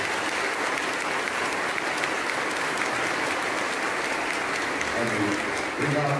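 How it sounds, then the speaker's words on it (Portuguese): A congregation at a Catholic novena and mass for Senhor Bom Jesus in Arujá breaks into dense, sustained applause that fills the room evenly throughout, with voices mixed in and murmuring toward the end. "Eu pediria para eles também uma salva de palmas,"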